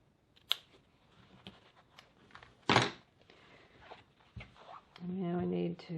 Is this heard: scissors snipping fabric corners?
yes